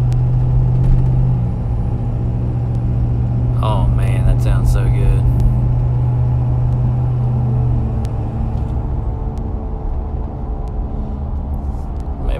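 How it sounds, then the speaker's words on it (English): Turbo on a 2017 Ford Powerstroke 6.7 diesel fitted with a No Limit Fab Stage 2 air intake whistles over a loud, steady engine drone heard from inside the cab, while someone briefly speaks partway through. "I just had to stop talking because of that turbo noise"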